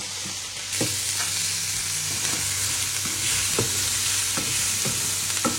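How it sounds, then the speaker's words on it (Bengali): Salmon fillet seasoned with black pepper and soy sauce fries in a pan with a steady, close sizzle, broken every second or so by sharp scrapes of stirring. "এইটাও আমি এখন একটু ফ্রাই করে নেব"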